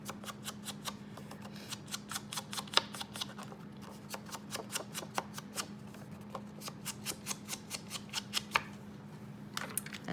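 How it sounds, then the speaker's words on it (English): Ink being sponged around the edges of a card during collage stamping, a steady series of short, close dabbing and brushing taps that continue rhythmically throughout, with a low constant hum beneath. "So we can sponge around the edges if you want to bring in kind of that yellow tone"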